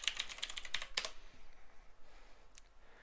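Quick bursts of keystrokes on a computer keyboard while typing a browser search, faint and close, with a short pause and a few final taps.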